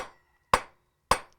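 Two sharp, ringing hammer blows on hot metal while forging custom large-head nails, spaced about half a second apart, each decaying quickly into silence.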